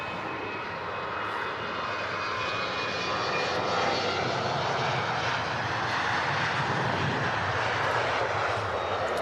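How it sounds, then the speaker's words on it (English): Finnair jet departing Manchester Airport for Helsinki, a loud, continuous broadband engine roar held steady at a distance with a faint high whine, no voices. "the Finnair flight heading off to Helsinki"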